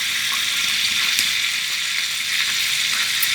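Ghee made from A2 milk powder bubbling in a pan, a loud, dense, continuous sizzle that holds steady and close without pause for the whole stretch.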